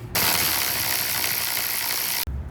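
A ratchet backing out a 10mm bolt in the fender well of a 2001-2007 Ford Escape, a loud, dense, continuous clicking run lasting about two seconds before stopping abruptly.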